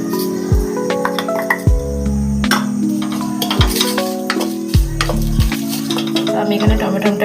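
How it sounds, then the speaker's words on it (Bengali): Spices for oil-free ghugni being stirred in a pan, a steady sizzle broken by repeated scraping strokes and metallic clinks of the spoon against the pan, close and fairly loud, with no talk. "নাড়াচাড়া করতে হবে, নাহলে মশলাটা লেগে যাবে"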